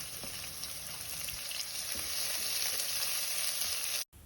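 Chopped onions frying with curry leaves in hot oil for a baby corn masala curry, a steady close sizzle with stirring scrapes throughout before a sudden cut.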